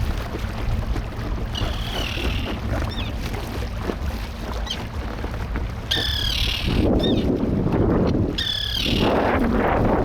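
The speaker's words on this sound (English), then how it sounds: "lot of birds close to me" Several birds calling close by on a lake, sharp repeated cries in short bursts over a steady wash of water and boat noise, louder splashing surges toward the end.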